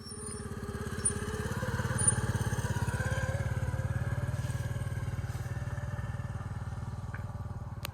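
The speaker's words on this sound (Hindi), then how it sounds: "यहाँ से 2 बाइक्स वाले गुजरे हैं" A pair of motorbikes go by on a road, a steady low engine drone holding at moderate volume throughout with a slight swell, no talk over it.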